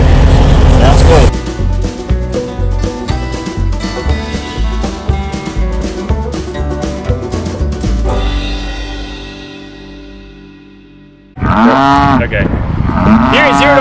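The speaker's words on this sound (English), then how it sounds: "I think these cows are pretty hungry" Longhorn cattle moo loudly, a few drawn-out calls near the end over a busy, rhythmic backdrop of other sound that fades away before the lowing rises.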